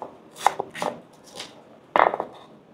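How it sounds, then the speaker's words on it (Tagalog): A knife slices Japanese spring onion thinly on a cutting board at home, giving four distinct chopping strokes spaced out over a few seconds, close and crisp, with no talk. "Hiwain natin itong ating Japanese spring onion ng maninipis."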